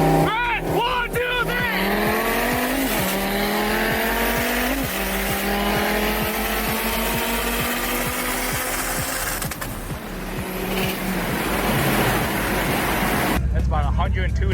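A Mitsubishi Evo race car at a summer car meet revs and accelerates hard, its loud engine note climbing through repeated rising sweeps with possible tire squeal, while people talk and shout nearby throughout.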